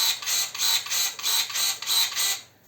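A SHIDOKU electric pruner switched on and running, giving a repeating high whirring buzz in about five even pulses before stopping, close and fairly loud with no talk.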